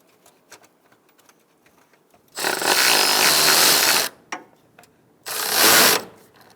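Two quick bursts of ratchet clicking, one about two seconds long and a shorter one after, tightening a bolt on the coolant reservoir of a 2000–2007 Ford Taurus, close with small handling taps between, no talk.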